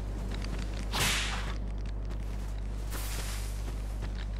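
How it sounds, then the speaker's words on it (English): Whip attacks in the video game Dark Souls 2 give quick swishing cracks, one prominent lash followed by a second fainter one, over a steady low hum. "Whip."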